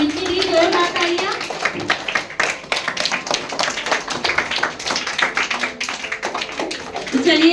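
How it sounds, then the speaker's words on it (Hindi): An audience at a school Hindi quiz show claps loudly for team Tarang: dense rapid hand claps that continue steadily, with voices heard alongside. "इनके लिए जोरदार तालियां"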